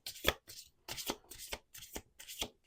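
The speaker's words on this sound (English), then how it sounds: "2 more shuffles." Playing cards are shuffled several times in quick succession, each riffle a crisp fluttering burst followed by a brief pause, close by.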